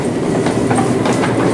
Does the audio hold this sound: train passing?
yes